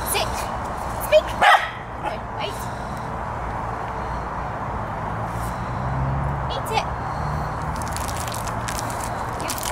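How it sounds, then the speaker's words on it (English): A Border Terrier and Jack Russell cross gives a couple of short, sharp barks near the start, then quieter sounds over a steady outdoor background hum. "My dog Benson."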